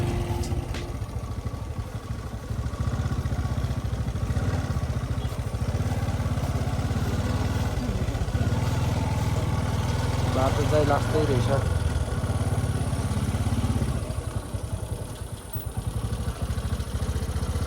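A motorcycle engine drones steadily while riding a mountain road in Rukum East, Nepal, toward Lugum village. The low hum stays constant throughout, with a rider's voice talking over it.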